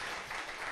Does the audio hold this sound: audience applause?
yes